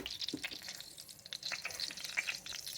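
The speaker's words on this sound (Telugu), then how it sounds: "ఇది ఆయిల్ వేడి తర్వాత మనం పోపు పెట్టుకోవాలన్నమాట." Tempering spices crackle and sizzle in hot oil in a home kitchen pan, a steady close frying hiss dotted with sharp pops and spits, with no voices.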